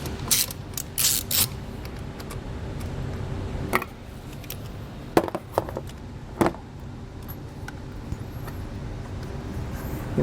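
A hand ratchet clicks in short bursts as it tightens a 10mm nut onto a vehicle battery terminal, with a few sharp metallic clacks between the runs of clicking, all close up and without talk.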